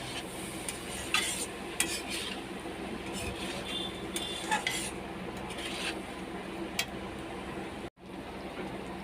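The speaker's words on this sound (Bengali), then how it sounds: "চালটাকে আমি মশলার সঙ্গে ভালো করে কষিয়ে নেব।" Soaked rice stirred with spices in a pan for a Bengali rui fish-head moori ghonto: a continuous scraping, rustling stir with scattered spoon-on-metal clinks and a soft sizzle underneath, close and steady, with no talk.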